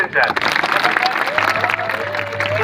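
Crowd applause at a Banjara community gathering, a burst of clapping from many hands with a voice carrying over it and a faint tonal hum underneath.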